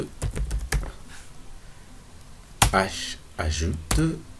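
Code being typed on a computer keyboard in quick clusters of crisp key taps, mixed with intermittent speech nearby.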